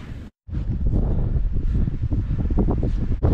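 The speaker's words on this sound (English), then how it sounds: "It's windy." Strong wind buffets the microphone outdoors at low tide, a loud, rough roar that runs continuously after a brief drop-out near the start.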